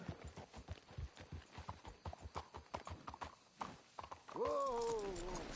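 Steady clip-clop of horse hooves at a walking rhythm in the video game Red Dead Redemption 2, fairly close, followed by a horse's whinny near the end.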